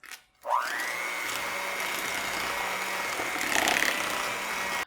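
An electric mixer whirs steadily as it blends sour cream, heavy whipping cream and vanilla into keto cheesecake batter. The motor spins up after a short pause and runs at a constant, close pitch, growing slightly louder near the end.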